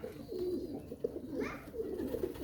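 A pair of Pakistani pigeons coo close by in a soft, repeated low rolling murmur under faint background noise.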